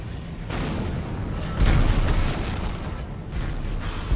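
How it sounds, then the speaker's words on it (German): Heavy explosions in the video game Dead Space rumble one after another, deep booming blasts with a louder burst in the middle, no voices. "Alles explodiert, ey."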